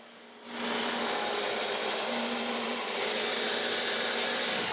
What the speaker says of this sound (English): The bottom is made straight with my big belt sander, while the rest is done with the small one.